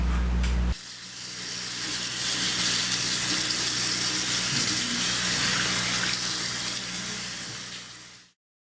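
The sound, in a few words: hand washing with running water at a sink tap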